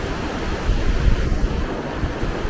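The Ocoee River runs high with whitewater, giving a dense, continuous rushing roar that swells slightly midway, steady and close with no voices.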